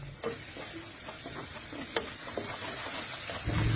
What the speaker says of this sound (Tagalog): Yan na naman ginggisa ko na ang lasuna.